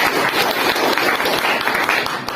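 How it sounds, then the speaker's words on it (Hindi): An indoor audience at a seminar gives sustained, dense clapping that fills the room evenly, with no talk over it. "ताली बजा सकते हैं"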